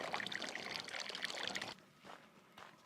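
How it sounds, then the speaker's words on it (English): Water pouring steadily into a bottle being filled at a trail water source on the Continental Divide Trail, a continuous splashing gush that stops abruptly, followed by a couple of faint trickles. "Made it to the first water source of the day. Gonna fill up here."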